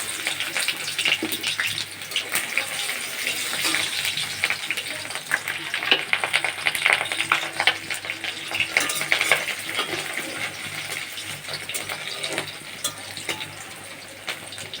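Onions fry in a little oil in a hot kadai, giving a crackling sizzle with irregular stirring and scraping clatter, fairly close and steady, fading slightly toward the end.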